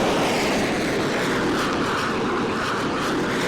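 Airplane taking off in the video game PTFS, a loud, continuous engine roar that holds steady across the whole moment with no voices over it.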